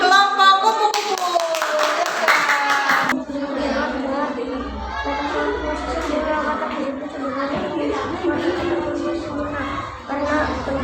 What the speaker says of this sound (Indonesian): Beri tepuk tangan untuk kelompok kupu-kupu